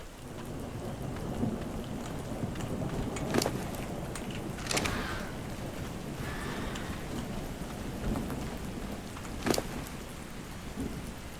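In ARK Survival Ascended, a thunderstorm brings steady heavy rain drumming on surfaces. Three sharp thunder cracks break through the downpour, one early, a second soon after and a third near the end.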